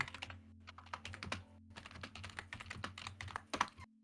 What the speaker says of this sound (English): There's a lot of typing.